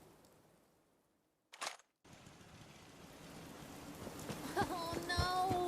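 Rain falling in Fallout 4, a steady hiss that swells louder toward the end, after a quiet stretch broken by a short sharp game noise, with faint tonal sounds near the close.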